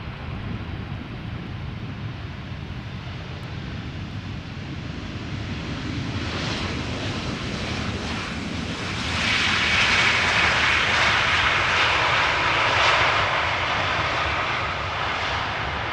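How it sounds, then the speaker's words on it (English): An Air Canada Boeing 787-9 Dreamliner arriving from Toronto descends into Amsterdam Schiphol, a jet roar that swells from a distant rumble into a loud, hissing pass, then lingers steadily. "Got Air Canada 808 behind it. 7879 Dreamliner arriving from Toronto."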